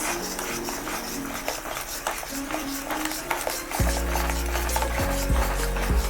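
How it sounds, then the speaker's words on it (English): Cashew paste burfi mixture stirred in a pan, continuous close scraping and rubbing of a spoon against the metal, with a low rumbling tone entering partway through. "Keep stirring the mixture to cook evenly"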